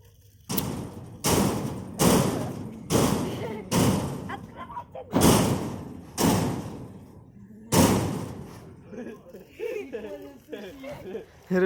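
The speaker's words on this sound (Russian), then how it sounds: "В клетку все это время стучал, пока мы экскурсию проводили." A bear in a zoo cage pounds on its enclosure, making heavy, booming thuds about once a second that ring loud and close, while visitors talk and laugh between the hits.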